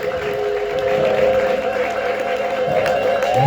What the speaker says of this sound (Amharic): እልልታ ጭብጨባችን ለጌታ ይሁን።